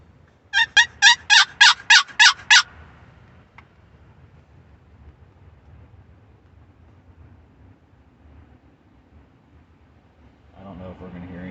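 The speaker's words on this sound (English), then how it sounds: "I'm going to try the first turkey call of the hunt" A hand-operated turkey call used while turkey hunting in high spring wind in Indiana, giving a quick burst of about seven sharp, loud yelping notes, followed by wind noise and quiet talk.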